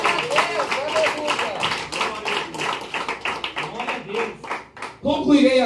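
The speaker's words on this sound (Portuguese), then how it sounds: "Dê uma salva de palmas bem alegre para Jesus." A church congregation claps along in a steady rhythm during a sermon, the quick even beats sounding full and close with voices mixed in underneath.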